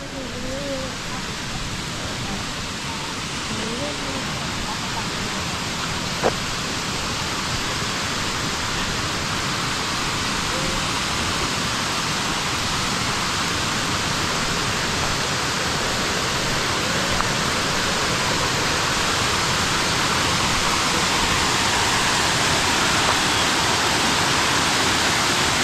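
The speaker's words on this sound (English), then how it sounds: "Erawan Waterfall." Erawan Falls in Thailand roars as a steady, broad rush of falling water, loud and unbroken throughout, with a faint voice or two briefly audible beneath it.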